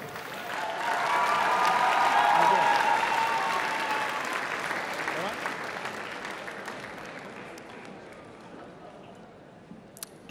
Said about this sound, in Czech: váš potlesk pro ní